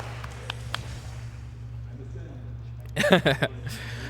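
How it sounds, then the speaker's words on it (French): Brief burst of clapping from an audience in a hall at a tournament match, rising for about half a second then fading, over a steady low background hum. "Ça applaudit dans la salle."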